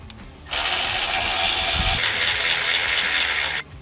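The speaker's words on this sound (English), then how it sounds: "on the bottom there are two bolts here, two 10mm bolts." A power tool spins off two 10mm bolts under a Chevrolet Silverado ZR2, a loud, steady whirring rattle near the mic for about three seconds that starts and stops abruptly.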